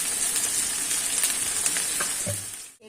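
Ghee sizzles in a chicken roast gravy as a steady, close, bright hiss of frying with light crackles, fading out abruptly at the end, with no talking.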